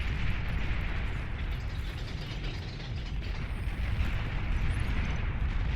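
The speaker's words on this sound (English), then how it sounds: "And here come the bombers." Bombers attacking in the strategy game Beyond All Reason: a dense, unbroken roar of explosions and rumbling impacts that stays loud and steady throughout, with no voices.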